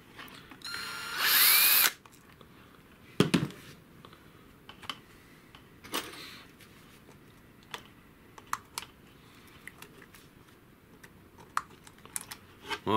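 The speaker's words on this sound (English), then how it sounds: "Let me make sure I have a big enough screwdriver here." A small battery-powered driver whirs briefly at close range while a screw is backed out of a lantern's battery cover, followed by scattered clicks and light handling taps.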